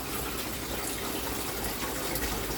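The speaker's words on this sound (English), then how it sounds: "6 o'clock I started filling the water up" A garden hose runs steadily into a fish tank or pond, giving a continuous broadband gush of pouring water with no breaks and no voices.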